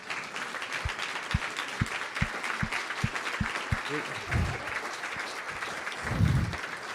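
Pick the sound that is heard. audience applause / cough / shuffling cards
audience applause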